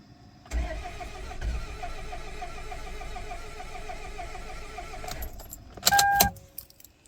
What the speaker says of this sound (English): the starter's getting power. It almost turned over, but it's not actually firing